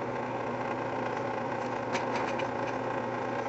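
A lathe makes a planing cut along a fountain pen blank, giving a steady, continuous whirring drone with a faint cutting hiss that holds level throughout, with no talking.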